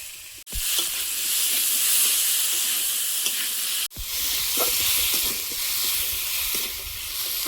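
Spices and tomato sizzle and hiss steadily in a pan for a curry, a loud continuous frying sound broken by two brief sharp interruptions, with no talking.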